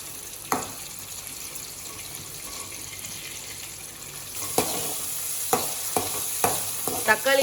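Small cherry tomatoes sauté in a pan for a lentil-ball kuzhambu, giving a steady low sizzle throughout, with a few sharp spoon stirs and scrapes clustering toward the end.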